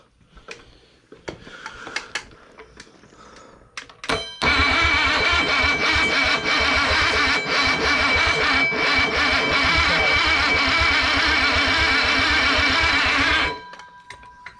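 A 1951 Pontiac Chieftain, abandoned for years, cranks and fires into a loud, steady idle that runs for about nine seconds before shutting off, after quiet shuffling and faint talk beforehand.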